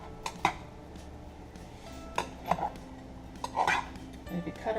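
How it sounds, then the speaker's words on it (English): A knife scraping and clinking around warm blueberry muffins in a metal muffin pan, giving several short metallic scrapes and taps spread across the moment, close and fairly quiet over a low background hum. "You can take a knife and go around each of the muffins so that they won't get stuck."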